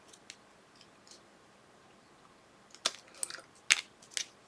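Scissors trim an end piece off paper leaves: several quiet, crisp snips close by, clustered in the second half over a faint background. No one talks.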